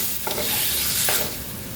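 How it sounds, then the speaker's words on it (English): Shrimp go into a sizzling bok choy stir fry. A steady, close hiss of frying swells twice. "Just gonna add that shrimp directly in there."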